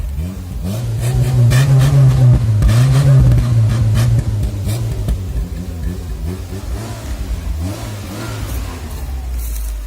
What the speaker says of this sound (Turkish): 3 yıldır çalışmayan arabayı çalıştırdı